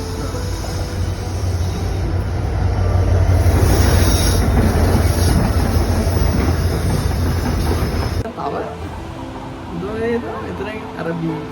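A train passes close by a beach railway station at Mount Lavinia near the sea, a loud broad rumble with rail clatter building and sustained, then dropping off abruptly as it goes, with voices audible underneath.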